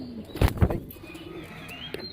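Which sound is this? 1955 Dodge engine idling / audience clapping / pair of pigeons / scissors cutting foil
pair of pigeons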